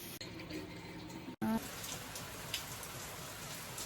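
Light rain falls with a soft, steady hiss. It is quiet and continuous, with a few faint drips and muffled background sounds.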